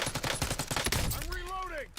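Rapid gunfire in Call of Duty Black Ops 6 multiplayer, a dense burst of close, loud automatic shots in the first second, followed by a ringing electronic tone that bends downward as the firing stops.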